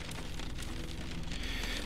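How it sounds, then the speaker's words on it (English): Heavy in-game rain in Cataclysm: Dark Days Ahead, a loud, dense, continuous patter and hiss with no pauses, heard alone without any talking. "Oh, that rain is loud."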